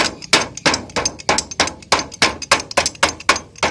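Repeated hammer blows pound a metal oil tin into shape for a tree guard, about a dozen sharp, loud metallic strikes in a steady rhythm, close and with no voice over them.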